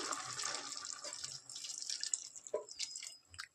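Coconut milk being poured into a pan of mushroom curry, a soft trickling and dripping pour with light splashes, close and fairly quiet.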